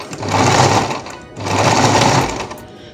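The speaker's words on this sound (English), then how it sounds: "put your fishing line, fold it over, and then you sew again" A sewing machine stitches an organza ruffle hem with fishing line folded in, running in two loud, sustained bursts separated by a brief slowdown.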